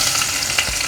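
Chopped pineapple sizzles steadily in hot coconut oil in a pan, a loud, close frying hiss with a brief stirring scrape partway through, no voices.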